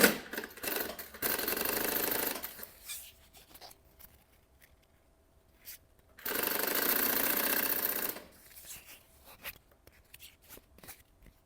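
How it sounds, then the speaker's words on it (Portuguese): Sewing machine stitching a maternity bag panel, running in two sustained bursts of rapid, even clatter about two seconds long, separated by quiet pauses with faint handling noises. "vai passar uma costurinha aqui do pé da máquina"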